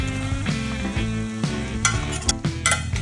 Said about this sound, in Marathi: गवार आपण बटाट्यामध्ये चांगली मिक्स करून घ्या आणि परतून घेऊया.